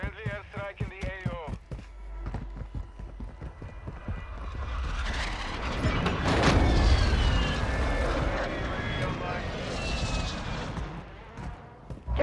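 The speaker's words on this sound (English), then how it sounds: "Friendly airstrike in the AO." A friendly airstrike in Call of Duty Warzone builds into a roaring jet pass with a swelling, sustained rumble of impacts, following a short burst of radio chatter and sharp gunfire.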